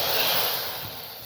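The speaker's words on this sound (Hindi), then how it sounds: "हम तड़का लगा रहे हैं अब दाल को।" A garlic tempering sizzles in hot oil for lentils with a bright, hissing crackle that swells at first and then eases off slightly.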